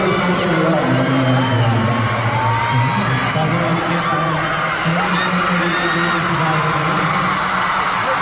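Fans at the Watson Playlist Concert 2024 scream and whoop continuously, a loud, sustained wall of shrieking voices with rising yells layered on top.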